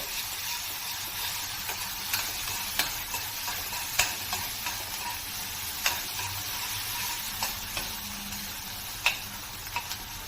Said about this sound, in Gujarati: ત્યારબાદ તેમાં કાંદા ટમેટા ઝીણા સમારેલા એડ કરવાના છે અને બધાને બરાબર ફ્રાય કરી લેવાનું છે